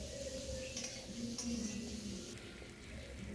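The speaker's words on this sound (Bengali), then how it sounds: "মিশ্রণটি দিয়ে দিচ্ছি, এটা হালকা করে নেড়ে নেব যতক্ষণ না কড়া থেকে তেল ছাড়বে" A turmeric, chili and cumin powder paste mixed with water is stirred gently in an oiled pan for potato curry, giving faint spoon scrapes and soft sizzling, quiet and close.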